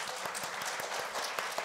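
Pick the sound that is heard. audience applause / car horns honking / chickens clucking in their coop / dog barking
audience applause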